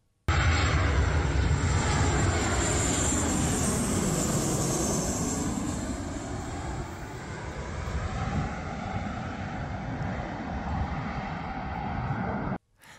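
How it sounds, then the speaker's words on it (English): A Boeing P-8 aircraft on final approach to an airport, its loud jet engine roar sustained and close throughout, swelling slightly and then cutting off abruptly. "Take a look at this P-8 as it makes a final approach to the airport."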